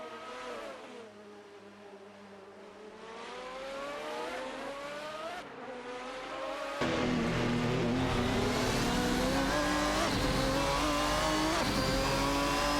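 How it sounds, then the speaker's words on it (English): Racing cars in a video game, including a Ferrari 575 GTC and an Aston Martin DBR9, roar with rising and falling engine notes as they shift through gears, growing louder and fuller midway as the field closes in. "Meyer and Sebring are locked in a battle for the 8th position, with Meyer in a Ferrari 575 GTC and Sebring in an Aston Martin DBR9"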